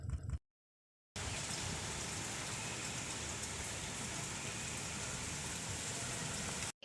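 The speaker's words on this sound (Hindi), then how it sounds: "देखिए फ्रेंड्स, कैसे बारिश हो रही है" Steady rain falls in a dense, even hiss. The sound is constant and moderately loud, with a brief silent gap near the start.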